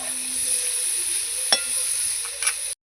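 Tender young jackfruit pieces fry steadily in hot oil until reddish, giving a continuous close sizzle with a couple of brief clinks from stirring.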